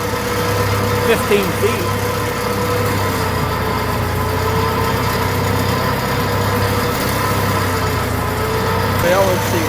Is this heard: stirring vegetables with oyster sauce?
no